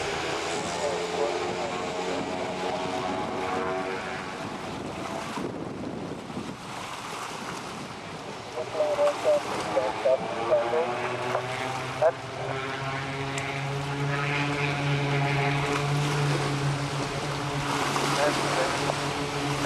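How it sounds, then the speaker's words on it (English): Seaplanes taxiing up a lake make a steady drone of propeller engines, with a rising and falling tone, over wind and water noise; a voice talks at times over the engine sound. "those two aircraft you saw taxiing up the lake"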